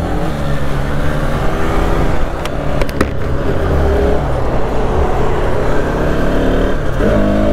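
A 250cc motorcycle riding on a road in daylight, its engine a loud, close, continuous drone that holds steady with slight swells throughout.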